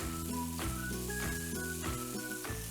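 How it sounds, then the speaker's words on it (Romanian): Garlic sizzles in olive oil with softened onion in a pan, a steady, moderately quiet frying hiss that runs unbroken throughout, with faint tonal sounds in the background. "putem adăuga usturoiul și îl gătim și pe el pentru aproximativ 1 minut"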